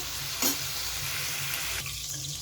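Paneer cubes frying in a pan for palak paneer give a steady, close sizzle throughout, with a brief louder stir or clatter near the start and a slight drop in the hiss toward the end.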